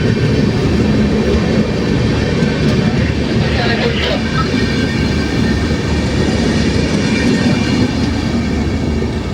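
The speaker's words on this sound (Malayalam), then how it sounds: "പഞ്ചാബ് മെയിലാണ് ഈ പോകുന്നത് കേട്ടോ." Punjab Mail express passing close by, a loud continuous rumble and roar of rolling wagons that stays steady throughout with no speech.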